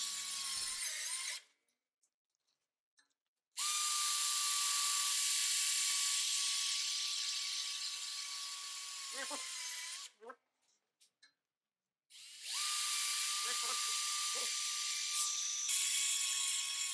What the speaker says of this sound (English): The machine was then put through its paces by driving in tech screws